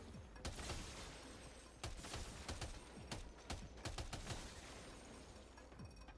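Light machine gun firing in the video game Death Stranding 2, a series of sharp bursts and single shots spread unevenly over several seconds at moderate loudness, with no talking.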